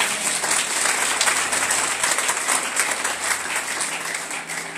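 A church congregation at a Holy Ghost revival service in Dortmund, Germany claps for Jesus, a dense, loud crowd applause that holds steady for several seconds and eases slightly near the end.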